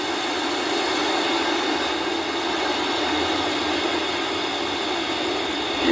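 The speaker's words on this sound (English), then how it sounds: "ignition, engines full power, and liftoff of Starlink 6-10" A SpaceX Falcon 9 rocket's engines at liftoff give a continuous, loud, broadband roar. It stays steady and powerful throughout and swells slightly at the end.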